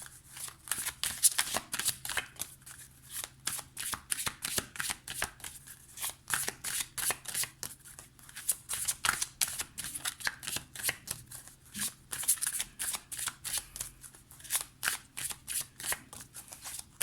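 Golden Lenormand oracle cards are shuffled by hand in a long run of quick, rhythmic riffling flicks, close and fairly quiet, with no one speaking.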